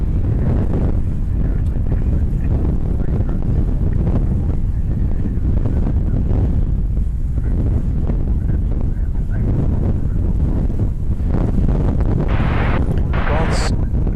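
Strong, gusty wind buffets the microphone at DFW Airport at night, a loud continuous roar of rumbling low-end noise that swells and eases in waves throughout, with no other sound standing out.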